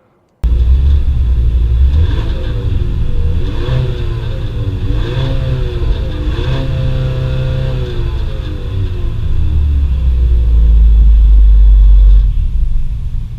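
A 2026 GMC Acadia engine revs up from idle to its soft limiter around 4,000 RPM, loud repeated rises and falls in pitch close to the car, ending in a sustained deep rumble near the limiter.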